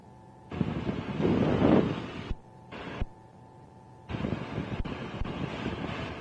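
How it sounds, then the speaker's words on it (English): Strong outdoor wind buffets the microphone in loud, rough gusts that swell, drop out briefly, then return as a sustained roar, with no speech. "It's actually quite a difficult wind like this."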